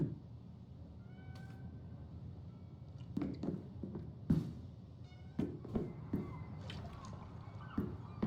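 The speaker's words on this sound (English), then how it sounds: "Sounds like there might be a cat up here somewhere." A cat meows somewhere nearby in PowerWash Simulator, several short calls scattered over a steady low rumble of pressure-washer spray.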